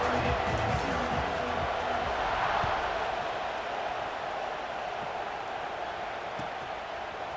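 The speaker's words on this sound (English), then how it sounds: "this crowd now ready to get behind them." A stadium crowd in EA Sports College Football 26 keeps up a dense, steady roar of cheering after a kickoff, continuous and fairly loud, with game commentary faintly beneath.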